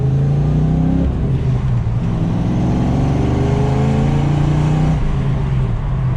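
A Ford Foxbody Mustang running open headers accelerates in first gear, its engine rumbling loud and close with a rising tone, briefly dipping at about one and five seconds.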